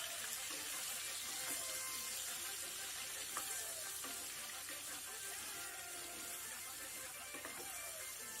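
Pumpkin pieces tempered with salt, chilli and spices sizzle and fry steadily in hot oil, a continuous close hiss with faint stirring throughout.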